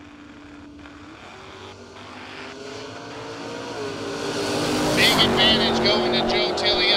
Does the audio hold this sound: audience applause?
no